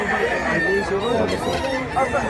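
Roosters crow and chickens cluck in a crowded chicken market in Cebu, the calls overlapping continuously at close range with a dense murmur of people talking underneath.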